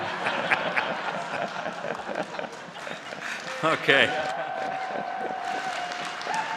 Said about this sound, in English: I'll allow the applause because it's for Paul Brandt, okay?